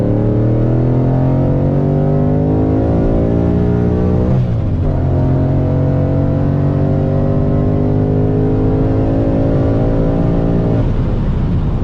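A Vortech supercharged Ford Mustang accelerates hard on the street, its engine pitch climbing steadily through one gear, dropping abruptly at a shift, then climbing again. Loud, continuous and close, with the supercharger's whine riding over the exhaust.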